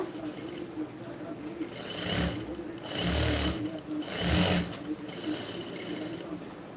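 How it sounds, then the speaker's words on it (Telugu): A sewing machine stitching the scallop edge of a blouse with invisible piping, heard up close as a steady mechanical hum broken by several louder bursts of rapid stitching. "ఇప్పుడు ఈ స్కాలప్ మొత్తం కుట్టుకోవాలి మనం"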